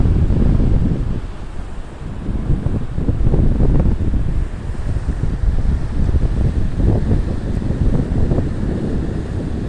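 Waves wash onto the Caspian Sea shore while wind buffets the microphone, giving a loud, continuous rolling roar with surging swells and no voices.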